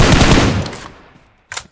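A loud burst of rapid automatic gunfire in a multiplayer shooter video game, close and dense, decays into quiet, then a short second burst follows near the end.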